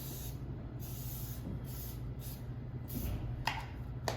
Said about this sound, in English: So start with a little bit of spray.